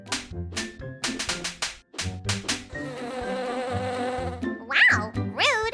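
A cartoonish buzzing bee effect drones steadily for a second or two, set between bright plucked musical notes and little chime-like flourishes in a children's bedtime story about the Little Mermaid.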